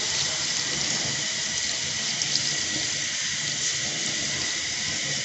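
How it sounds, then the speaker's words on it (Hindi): Milk pours into a cooking pot for carrot halwa, a steady unbroken splashing rush that stays loud and close throughout, with no talk. "अभी ये पतीले में डाला मैंने, और अभी इसमें मैं दूध डाल रही हूँ।"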